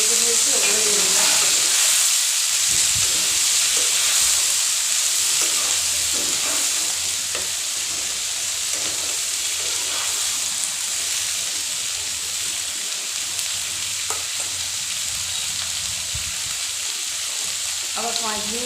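Capsicum, onion, green chilli and chopped tomato with ground spices fry in hot oil in a pan, giving a steady close sizzle and hiss with occasional stirring scrapes throughout.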